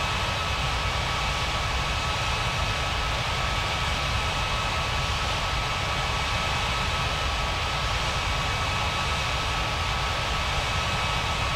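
An Aeroflot jet airliner takes off from runway 35, heard as a steady, loud broadband roar that holds evenly throughout with no voices.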